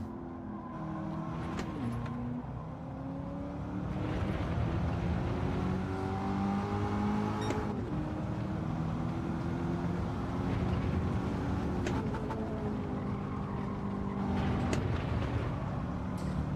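A race car engine in a time-trial driving game drones steadily, with the revs rising and falling between gear changes and throttle lifts, loud and continuous.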